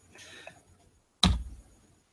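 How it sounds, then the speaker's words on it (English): A sharp click lands midway through, loud and close, after a quieter patch of faint tapping noises. No voices are heard. "I'm sorry about all the clicking."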